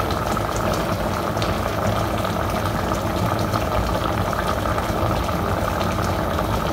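A pot of Vietnamese braised tuna simmers on the stove as its liquid reduces, giving a steady, close bubbling hiss that holds evenly throughout with no talking.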